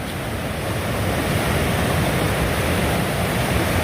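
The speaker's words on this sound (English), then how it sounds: "Here we are along the French Broad River. Nice little hydraulic to play on." Rapids on the French Broad River churn through a small hydraulic, making a steady, close, full-bodied roar of rushing water that holds constant with no talking.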